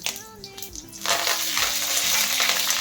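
Cumin, chana dal, urad dal and curry leaves sizzle in hot oil in a pan as a spoon stirs them, a close crackling hiss that swells and stays steady under a few scraping sounds.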